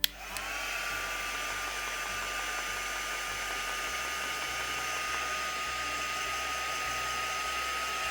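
Heat tool blowing over paint on a gessoed journal page, a loud continuous whooshing fan-and-heater roar with a steady whine, starting abruptly and running without a break.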